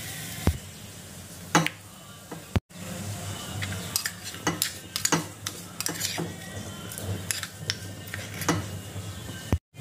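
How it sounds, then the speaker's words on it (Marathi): Amla and leaves roast in a pan as a spoon stirs them, scraping and clinking against the metal over a soft, steady sizzle, with a few sharp knocks along the way. "आता हे मी आधी कडवून घेते, म्हणजे पूर्ण आपल्याला हे काळं करून घ्यायचं आहे।"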